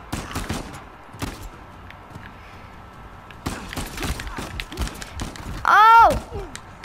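Uncharted 4 gunfire rings out as a series of sharp, irregular shots and bursts, some close and some softer, mixed with game effects and voices talking over the action.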